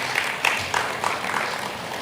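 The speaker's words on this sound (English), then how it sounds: "I believe that that calls for a round of applause." Audience at an annual lecture event clapping, a brief moderate burst of crowd applause with scattered louder claps, fairly even and mid-distance.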